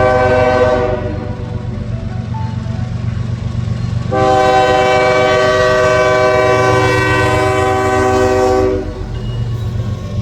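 A local freight train passes at the south end of a Birmingham rail yard, its deep diesel rumble steady throughout while a loud, sustained multi-tone horn blasts in the middle before the rumble carries on alone.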